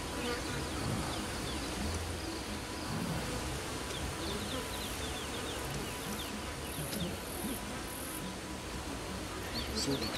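Bees buzzing in the video game Ancestors: The Humankind Odyssey, a steady dense drone that runs unbroken through the whole stretch with a busy insect texture and no voices.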